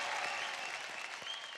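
A studio audience on a televised singing competition breaks into loud, sustained applause, dense clapping filling the space from start to finish with some crowd noise mixed in.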